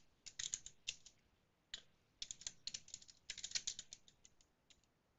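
Quick bursts of typing on a computer keyboard at a PowerShell prompt, crisp key clicks in uneven runs with short pauses, close and fairly quiet.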